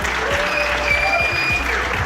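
Audience at a Prague crypto world tour conference event applauding steadily, dense continuous clapping throughout with no voices over it.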